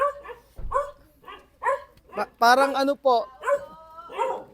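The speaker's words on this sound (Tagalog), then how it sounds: "So may asong nananahol." A large dog nearby barking in a run of short, loud yaps and whimpery yips, with people talking in between.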